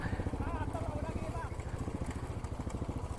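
A motorcycle rides along the road to Shirota Dam near Lonavala, its engine putting out a steady throbbing pulse. The engine note runs continuously and sits close, with no break.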